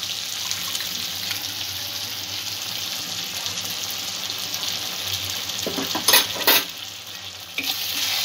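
Spice paste frying in a pan as yogurt is stirred in for chaal potol, a pointed gourd dish: a constant hissing sizzle, then a couple of louder sputtering bursts near the end.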